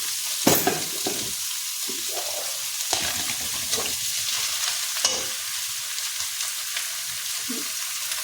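Shredded chicken sizzling steadily in a hot pan with ginger-garlic paste and black pepper, with occasional scraping stirs and clanks of a utensil, close by.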